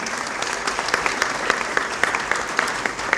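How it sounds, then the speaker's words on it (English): A community breakfast audience applauds a man walking up, dense steady clapping from many hands throughout. "let's give him a big round of applause as he's walking up"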